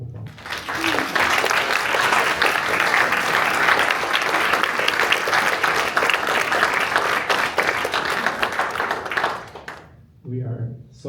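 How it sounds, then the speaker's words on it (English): At a school board of education meeting, a room full of people claps in a loud, dense round of applause lasting about nine seconds, then it fades and a voice starts speaking. "So can we give them a round of applause?"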